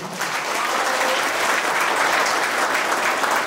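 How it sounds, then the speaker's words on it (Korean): Audience applause at a Black Yak 2019 launch ceremony in Korea: dense, steady clapping from a large crowd, loud and sustained throughout with no talk over it. "우리 7기 모든 셀파들을 위해서 박수 한번 보내주세요."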